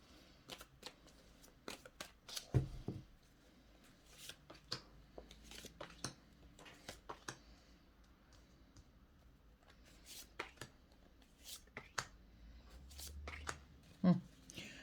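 Tarot cards are shuffled and flick about, giving scattered crisp snaps and soft papery clicks at irregular intervals, with a quiet voice at times underneath.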